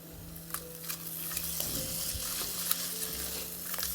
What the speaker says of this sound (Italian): Facciamo rosolare un 10 minuti